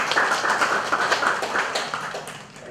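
An audience at an academic talk on the Santiago climate conference claps in a dense, steady burst of applause that tapers slightly toward the end.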